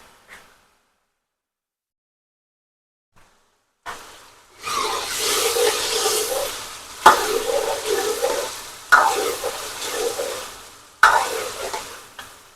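Potatoes frying and being stirred in a pan on a home kitchen stove, a steady loud sizzle that begins after a quiet start and swells with each stir, scraping in repeated surges.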